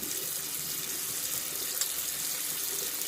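Hot water runs steadily from a tap into a sink, a continuous close splashing hiss at moderate level with no pauses.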